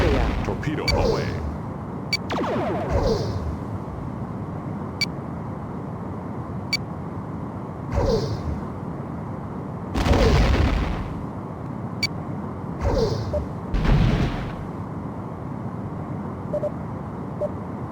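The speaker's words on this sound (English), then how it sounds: "Enemy ship is firing. Our phaser fire missed. We have been hit." Phaser and torpedo fire from the Star Trek: A Final Unity video game, with repeated sharp blasts and booming impacts at irregular intervals over a low engine hum, and a synthetic voice speaking between shots.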